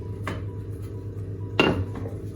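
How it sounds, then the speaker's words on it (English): Pizza dough set down on a metal baking tray, giving two light metallic clanks with a short scrape, close and clear in a quiet kitchen. "And then you're going to place it on your baking tray."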